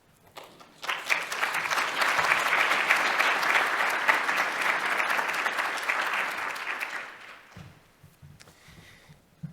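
Conference audience applauds as the CEO is introduced at a harm reduction and health care for the homeless event, steady dense clapping building quickly, holding for several seconds, then tapering off before a voice begins.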